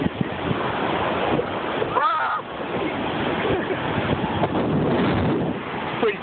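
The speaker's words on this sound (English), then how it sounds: "if you guys want to check out the beach, this is where we're at" Ocean surf washing onto a beach on a cold, windy day, a steady broad roar of breaking waves with heavy wind buffeting the microphone throughout.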